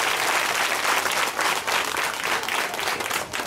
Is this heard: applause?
yes